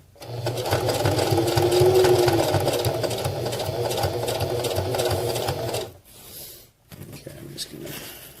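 A sewing machine runs steadily, stitching an accessory pouch made of PALS/MOLLE webbing with a continuous close mechanical whir. It stops briefly near the end, then gives a short second burst.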